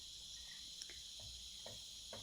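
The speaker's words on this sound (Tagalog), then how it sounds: "birds chirping at the background and other insects." Crickets and other insects chirr steadily outdoors in the mountains, a faint, continuous high-pitched trill with a few soft, distant chirps over a quiet background.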